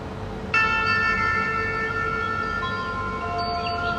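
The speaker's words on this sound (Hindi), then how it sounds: "तो शंखनाद आप सुन सकते हैं।" An electronic Bhagavad Gita audio device plays a conch shell blast: a steady, sustained horn-like tone that starts abruptly after a moment of background hiss and holds loud to the end.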